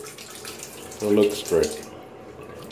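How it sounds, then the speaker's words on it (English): Water runs from a hotel room sink nozzle in a room in Boracay, a soft steady flow with two brief louder gushes midway, while a person talks over it. "You have to hit it up for the water to come down."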